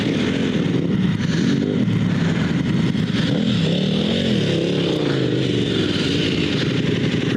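Adventure motorcycles on Motoz Tractionator GPS and Heidenau tires drag race, engines roaring steadily loud and close with rising, shifting pitch under heavy wind buffeting.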